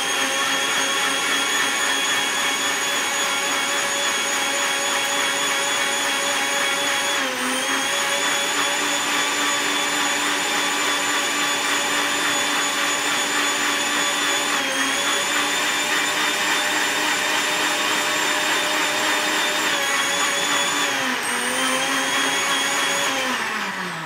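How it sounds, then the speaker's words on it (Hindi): A kitchen blender whirs loudly and steadily for about 24 seconds, blending a dry fruit shake, with brief dips in pitch as the motor loads and a drop near the end as it winds down. "इसको हम दोबारा ब्लेंड करेंगे"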